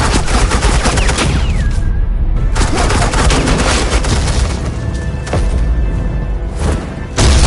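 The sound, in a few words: suppressing gunfire in the video game Batman: The Enemy Within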